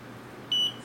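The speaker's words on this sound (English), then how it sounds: "the alarm is supposed to start sounding." A single short high-pitched electronic beep from a Lamptron Touch fan controller alarm, lasting about a fifth of a second, over faint background hum.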